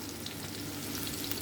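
Camote pieces fry in hot oil with a steady, dense, close sizzle and crackle that holds evenly throughout, with no voices over it.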